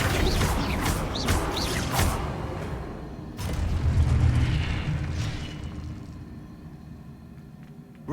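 Flipendo spell cast in the Hogwarts Legacy video game: a sequence of whooshing bursts and booming impacts, with a deeper rumbling blast in the middle that fades into lingering reverberation.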